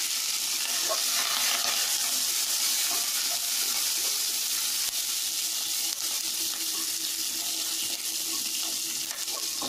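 Curry leaves hit hot oil and set off a steady, loud sizzle that fills the whole stretch, with no voices.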